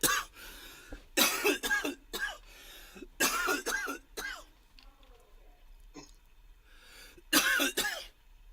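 Several short, harsh coughing bursts come in clusters, fairly close and loud, separated by brief quiet gaps.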